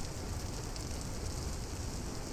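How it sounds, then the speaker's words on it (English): Steady, endless rain in the Vintage Story game, a continuous soft hiss of falling water with no distinct drops, moderately loud and unbroken. "and we have an endless rain"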